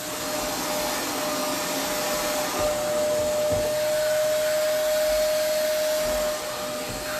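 A small handheld vacuum cleaner running continuously close by, a loud steady whirring whine with a sustained motor tone and slight changes as it is moved.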